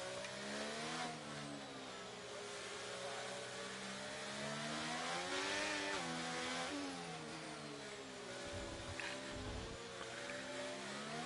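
Several race cars in a racing video game drive through a chicane at a Miami track, engines revving steadily with gear shifts and a brief tire squeal, loud and continuous with no voices.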